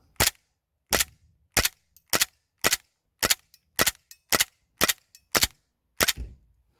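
An airsoft gun on a range fires single shots: ten sharp, loud cracks at an even pace, each separated by brief silence.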